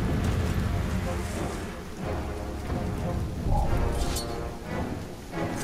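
Rain in the Middle-earth: Shadow of Mordor video game, a dense steady hiss of heavy rainfall with low rumbling swells like distant thunder, continuous and fairly loud.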